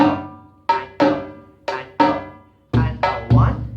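Conga drums are played in a rhythm across bass, high tom and mid tom, giving a series of sharp, resonant hits with ringing decays, clear and close with no talk over them.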